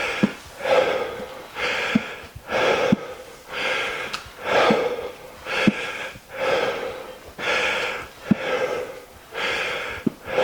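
Heavy, rhythmic panting during a hard HIIT leg workout, about a dozen loud rasping breaths in a steady cycle, close and with no talk over them.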